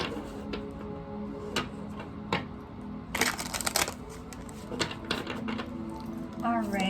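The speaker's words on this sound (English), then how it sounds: "All right, just gonna get 2 more shuffles here." Close, dry shuffling of a tarot deck: scattered light card taps, then a dense burst of rapid riffling clatter partway through, followed by softer card handling.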